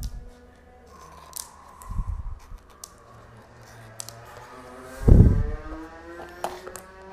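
Scissors snip through stiff corrugated plastic sheet (coreflute) in a few crunchy bursts, with handling clicks and rustling between cuts, close by.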